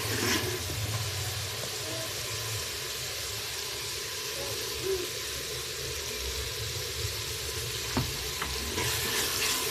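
Potatoes and spices frying in ghee in a pot, a steady close sizzle and crackle running throughout with a few brief stirring clatters, no talking.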